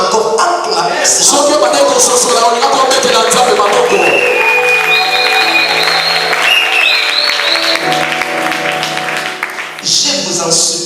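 A church congregation at a Sunday service breaks into loud, sustained applause, with clapping filling the room for about ten seconds under voices and music.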